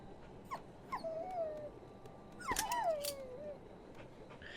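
A dog whimpers and whines in the horror video game Maid of Sker, several drawn-out, wavering high cries heard close over a low ambient background.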